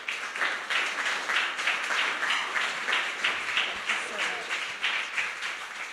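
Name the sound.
audience applause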